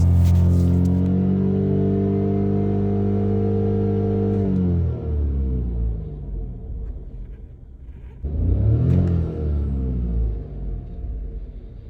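Ford 1.0 EcoBoost three-cylinder engine rising steadily under a stabbed throttle, its harmonic whine climbing for about four seconds, dropping back toward idle, then a second sharp rev-up that holds loud before easing, with no talking.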